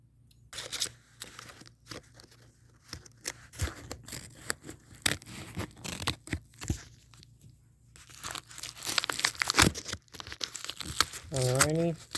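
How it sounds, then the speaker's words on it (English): Packing tape being torn and cut off a cardboard package during an unboxing, giving intermittent crinkling, ripping and snipping bursts at close range, with a voice speaking near the end. "Maybe I can get this tape off."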